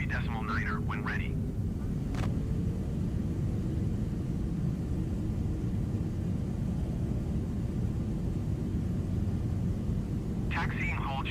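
A jet airliner taxiing toward the runway at Miami airport gives a steady, muffled cabin rumble throughout, with a few brief voice fragments near the start and end.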